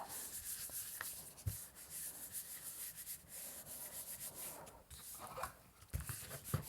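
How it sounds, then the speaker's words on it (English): Edges being burnished down by hand rubbing while painting a blue sky; faint, close, repeated scratchy rubbing strokes with a few soft taps, and no talk. "be sure and burnish those edges down really well"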